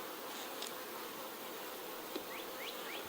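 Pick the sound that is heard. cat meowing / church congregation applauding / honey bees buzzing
honey bees buzzing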